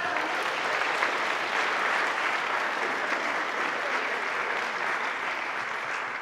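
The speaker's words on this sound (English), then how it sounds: "Let's give them a round of applause" Sustained, dense applause from a large crowd at a high school senior awards ceremony fills the whole stretch at a steady, loud level, with no talking over it.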